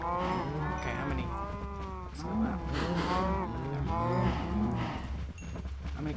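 Loud, repeated mooing from video-game cows fills the whole stretch, several overlapping calls rising and falling close by with barely a pause between them.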